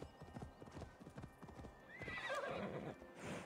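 Hooves clip-clop in a quick rhythm in a video game, then a horse lets out a loud, rising neigh, followed by more hoofbeats.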